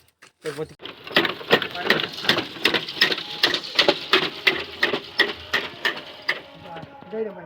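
A token seed planter mechanism drops chickpea seeds with a rapid, steady series of close mechanical clicks and clacks, loud and rhythmic, continuing for several seconds with a brief voice at the start.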